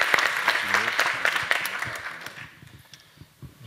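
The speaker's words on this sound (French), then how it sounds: "On peut l'applaudir encore." Audience applause at a press award ceremony honoring a security company, dense clapping at first that thins into scattered claps and trails off toward the end.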